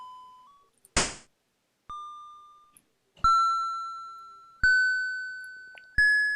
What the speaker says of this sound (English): And this is the doorbell.